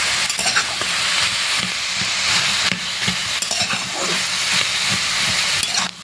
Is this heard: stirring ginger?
yes